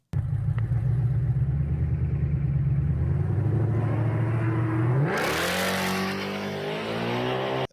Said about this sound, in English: And then you hear the tires kind of chatter a little bit there, too.